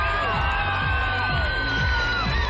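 A crowd at the X Factor Bulgaria final cheers and whoops for the two finalists, sustained loud shouting and yelling filling the hall, with a high sustained tone ringing over the roar.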